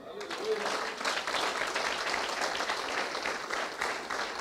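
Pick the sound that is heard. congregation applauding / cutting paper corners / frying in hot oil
congregation applauding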